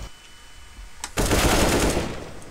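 Loud sustained burst of rapid gunfire in the Counter-Strike game, erupting suddenly after a quieter stretch with a single earlier crack and continuing densely to the end.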